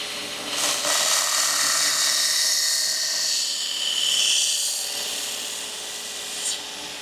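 A belt grinder sharpening a knife on a mildly aggressive belt makes a steady, close abrasive hiss and rasp that swells and eases as the blade moves across it, with no talk.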